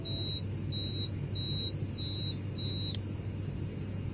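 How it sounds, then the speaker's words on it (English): Test beeps from the cockpit voice recorder in an A320 cockpit, a series of short, thin, evenly spaced electronic tones over a low, steady hum of cockpit equipment, with no one speaking. "An audio test signal and a beep every 4 seconds should be heard through the loudspeakers."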